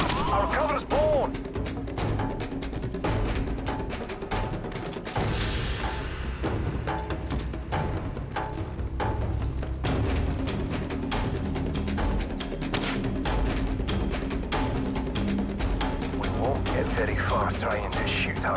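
Sustained gunfire in Call of Duty 4, dense repeated shots and heavier thuds across the whole stretch, loud and close, with voices talking underneath.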